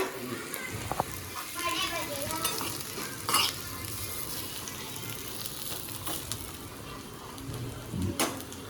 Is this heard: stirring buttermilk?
yes